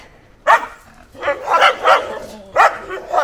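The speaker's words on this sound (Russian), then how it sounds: "это еще мелкие собаки, а могут быть покрупнее" Small dogs in a mountain village in Montenegro bark in short, sharp bursts, several yaps close by with brief pauses between them and no talk.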